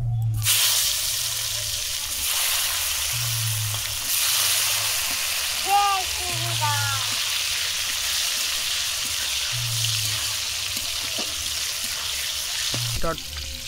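Chopped tomatoes hit whole garam masala and cumin frying in hot oil for a homestyle Kali Puja bhog khichuri, producing a steady close sizzle that runs throughout with occasional low thumps and clinks.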